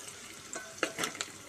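Shrimp and sliced onions fry in hot oil on a stove, a quiet steady sizzle broken by a few soft stirring scrapes and clicks.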